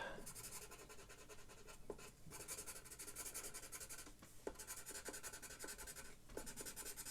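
Pencil crayons rub back and forth across paper as a football club badge is coloured in, a close, continuous scratchy shading sound broken by brief pauses and small taps.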